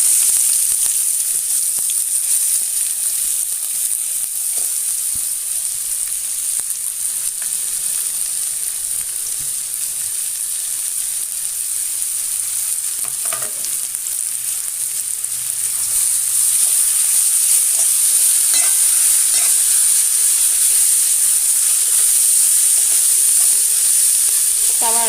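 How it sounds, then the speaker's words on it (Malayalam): Chopped onions frying in hot oil in a pan, a steady loud bright sizzle throughout with occasional stirring scrapes, getting louder and brighter after about fifteen seconds; no speech. "ഇതിലേക്ക് നമ്മൾ അരിഞ്ഞു മാറ്റി വെച്ചിരുന്ന സവാള ചേർത്ത് കൊടുക്കാം."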